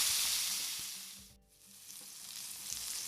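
Steak searing in a cast iron pan on a camp stove: a fairly quiet, steady hiss of frying that dips briefly at the midpoint and then returns, with soft low knocks underneath and no talking.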